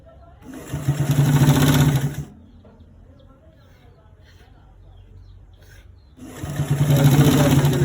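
A sewing machine whirs in two steady bursts, topstitching a roll collar on a V-neck garment. A quieter stretch with faint handling noise separates the bursts, and a speaker's voice is also present.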